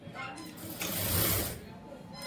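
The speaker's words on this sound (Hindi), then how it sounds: "इसको इस तरीके से सिलाई कर देना है" Sewing machine stitching a piped cross pocket, a steady mechanical whirr that swells in the middle and holds at close range with no talk over it.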